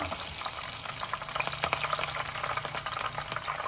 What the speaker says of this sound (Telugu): అలా అలా వేస్తే అవే వేగుతాయి కింద నూనె ఉంది కదా